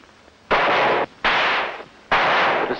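Three loud gunshots from a 1955 black-and-white film, each a broad harsh blast lasting about half a second, spaced evenly apart with near silence between.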